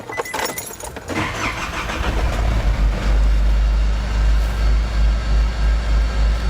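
A diesel car with a VNT turbo on a chassis dyno, engine climbing steadily in revs to a loud, sustained drone with a rhythmic low pulsing, after a brief clatter at the start.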